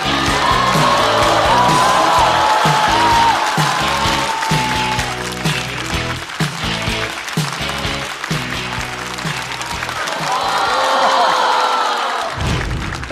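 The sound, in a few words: audience applause welcoming a stand-up comedian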